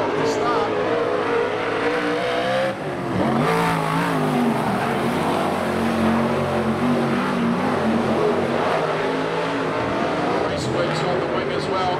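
Modified race cars at a Huntly pole shuffle race roar loudly and continuously as engines rev off the start, with a commentator talking over the noise throughout.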